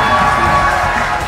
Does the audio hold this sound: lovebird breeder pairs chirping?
no